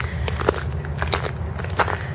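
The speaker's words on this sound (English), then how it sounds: "Yes, I'm crunching on ice." Footsteps crunching over ice in winter flood damage outdoors, a run of crisp, irregular crackling steps close by, several crunches over about two seconds against a low rumble of background noise.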